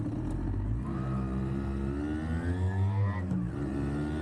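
A Yamaha YB100 two-stroke motorcycle being ridden, its engine rising in pitch through the revs with a gear change, loud and close throughout without talk.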